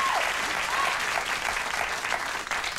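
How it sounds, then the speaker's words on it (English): Studio audience at a late-night talk show applauds a newly unveiled set, a steady wash of many hands clapping for a few seconds at even volume. "Please don't applaud a new set."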